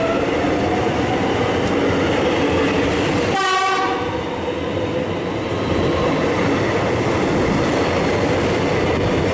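A suburban train rumbles loudly and steadily close by as it departs Union station in Melbourne, with a brief horn blast partway through as it moves off.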